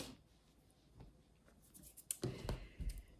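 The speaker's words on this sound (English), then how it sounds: "I'm going to cut it just at the where the heel starts, straight across" Scissors snipping across a cotton sock at the heel, a handful of short crisp cuts close by, quiet at first and then louder, with no talking.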